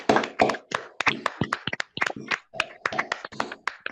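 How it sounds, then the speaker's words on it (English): Audience applause for Jeremy Corbyn, Labour MP for Islington North, heard as sharp, close hand claps in an irregular, energetic burst from a modest crowd, loud and alone without talk. "that clapping, the applause"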